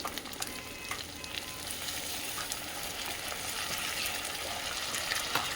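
Spice paste with ginger, green chillies and tomato paste sizzles and fries steadily in a pot, a continuous close crackle with faint stirring scrapes throughout and no talk.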